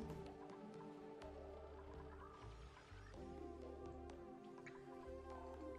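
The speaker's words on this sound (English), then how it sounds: "That should empty all the water out of those pipes." Water drains from pipes in the video game Oxygen Not Included, heard as scattered soft drips and squishy gurgles, faint and close, over a low steady hum of game background.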